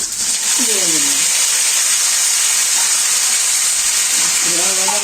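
Five-spice seeds crackle and hiss in hot oil for a vegetable curry in a village kitchen, a loud, steady sizzle running throughout, with a voice talking briefly over it now and then.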